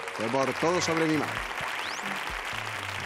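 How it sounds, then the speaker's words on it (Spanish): Applause from a woman clapping on a Spanish television quiz show, a steady wash of claps running through the whole moment beneath a voice. "Teresa empezó a aplaudir antes de que contestaran."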